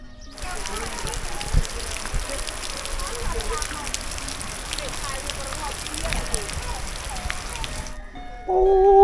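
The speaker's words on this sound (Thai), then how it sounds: "ฝนตกทุกคนเลยตอนนี้ฝนน่าจะเอื่อนแล้วนะ" Steady rain falls in a village, a dense even hiss of drops on surfaces that runs for several seconds before stopping abruptly, followed by a voice.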